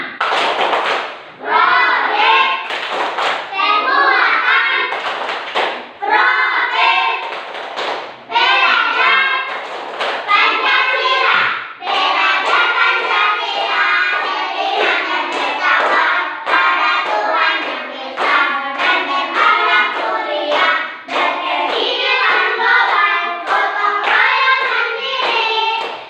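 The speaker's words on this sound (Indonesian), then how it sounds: "Kita menyanyikan tepuk kelima ya." Classroom of children standing and clapping along to the 'tepuk kelima' clap chant, sharp rhythmic hand claps in repeated bursts mixed with children's chanting voices, close and loud throughout.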